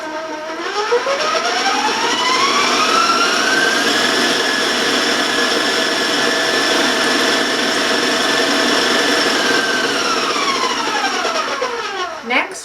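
An electric hand mixer beats a whole egg and two yolks for cookie dough, a loud steady motor whine that holds nearly unbroken for over twelve seconds, rising in pitch at the start and falling away at the end.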